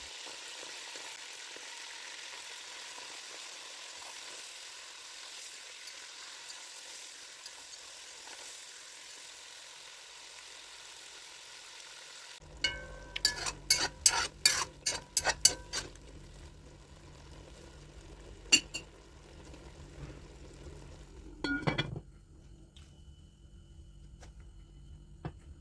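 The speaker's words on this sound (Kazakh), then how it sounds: "Етті қызарғанша қуырамыз." Meat fries in hot oil in a cauldron for Uzbek-style plov, giving a steady, soft sizzle, then a stretch of sharp metallic scrapes and clatters from stirring, all close and without any talk.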